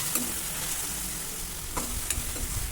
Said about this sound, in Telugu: ఈ ఉల్లిపాయ ముక్కలు బాగా ఫ్రై అవ్వనియండి.